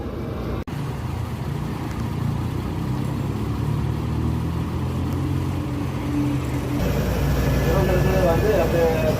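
Inside the driver's cabin of an SETC non-AC seater-cum-sleeper bus, a continuous loud engine and road roar fills the space, and the tone shifts partway through.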